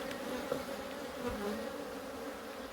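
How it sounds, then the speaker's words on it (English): Honeybees buzz at an opened hive on a cool morning, a soft, steady drone of many insects with occasional louder passes, faint and with no talk. "Lots of cold bees, good comb for that queen to move and lay onto."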